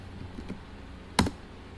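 A single sharp keystroke on a computer keyboard, the Y key struck once, a crisp close click standing alone after a few faint softer taps in a quiet room.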